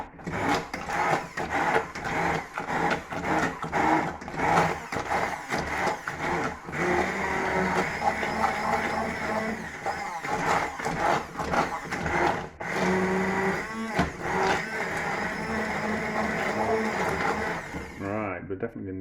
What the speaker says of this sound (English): The water's boiled, so we'll give it a pulse with the hand blender.